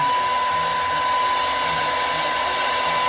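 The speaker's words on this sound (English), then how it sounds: "My blow dryer on cool." A hair dryer running on its cool, low setting, a steady close whooshing airflow with a constant motor whine throughout.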